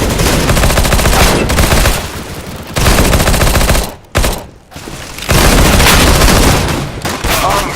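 Rapid automatic gunfire from Counter-Strike: Global Offensive rattles in long loud bursts with brief gaps, a player's voice talking over parts of it.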